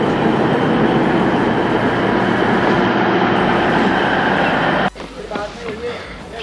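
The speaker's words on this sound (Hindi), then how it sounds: "ट्रेन अभी पोखरण स्टेशन पर आ गई है।" Train on the Jodhpur to Jaisalmer line, a loud steady rumble of wheels and carriage noise filling the first five seconds before cutting abruptly to a quieter interior where a voice speaks.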